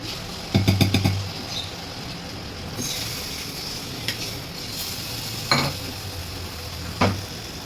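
Cashews and raisins fry in a pan with a steady soft sizzle, broken by a few sharp clinks and scrapes of a spoon stirring against the metal.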